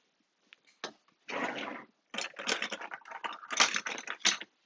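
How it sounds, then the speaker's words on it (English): Fabric being peeled off a sticky ScanNCut cutting mat: crackling, ripping bursts of adhesive release in several separate pulls, close and fairly quiet, with short pauses between. "So I'm going to peel away this piece of fabric."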